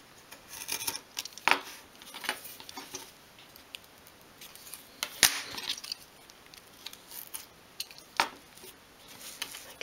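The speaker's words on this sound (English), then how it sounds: "Hold on to your rule nice and tightly, do a light cut, and then you can go across a couple of more times a little bit deeper" A craft knife drawn along a metal rule over a pencil line on a 1/12 scale wall shelf piece, giving a few scattered short rasping scrapes, close and quiet, with no talking.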